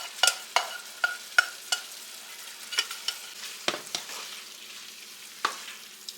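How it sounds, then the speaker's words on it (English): Cooked rice being stirred into a simmering pan for a one-bowl meal, with repeated sharp spoon scrapes and clacks over a soft bubbling sizzle, close and alone. "Mix all that together while it's still simmering."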